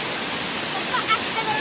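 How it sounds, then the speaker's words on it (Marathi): A small waterfall in a rain-soaked hillside area gives off a steady, dense broadband rush of falling water, constant and fairly loud, with no breaks. "तर बघू शकता हा छोटासा धबधबा पण खूप छान वाटत होता"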